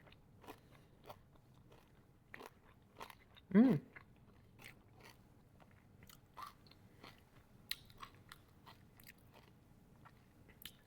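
Crunchy fig and olive crisps being bitten and chewed close up, with a few quiet crackly crunches and one louder bite standing out in a mostly soft stretch.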